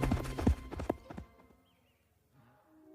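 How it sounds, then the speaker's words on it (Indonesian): Hooves of a young water buffalo running at full speed, a quick burst of loud, close thudding beats that stops abruptly and gives way to near silence. "si kerbau muda berlari sekuat tenaga"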